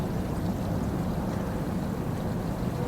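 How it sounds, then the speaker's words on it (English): Water rushing through an RV black tank from a rinse hose, a steady, dense, low whooshing flow that holds constant without pauses, moderately loud and close, with no voices. "We're gonna keep the rinse hose or the rinse for the black tank going."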